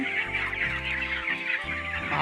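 Farm chickens cluck in short repeated bursts close by, moderately loud, with steady throaty calls and no talking.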